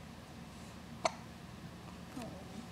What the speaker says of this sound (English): Someone got the hiccups.